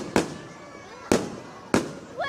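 Fireworks burst overhead in three loud, sharp explosions about a second apart, each with a quick ringing tail. A faint voice rises briefly at the very end.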